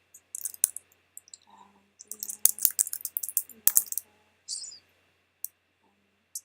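Computer keyboard typing a login password, clusters of quick close key clicks with short gaps, ending in a few isolated taps.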